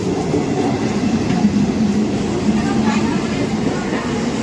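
A Howrah local train pulls in at a station platform with a continuous rumble and rhythmic rail clatter, close and steady, with faint voices in the background.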